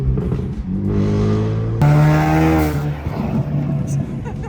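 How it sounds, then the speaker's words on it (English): A Ford Mustang engine revs up loudly nearby with a rising roar and sputtering pops, heard from a passing car at night while people talk excitedly. "that Mustang shoots the craziest flames"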